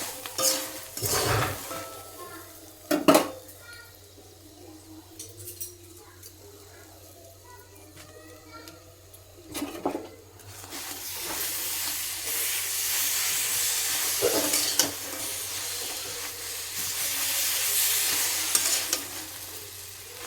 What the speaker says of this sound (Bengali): আবার 1 মিনিটের মতো নাড়াচাড়া করে নিয়ে